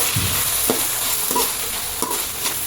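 Two tomatoes frying in a pan for goat head curry masala make a loud, steady sizzle, broken by a few spaced stirring scrapes close by.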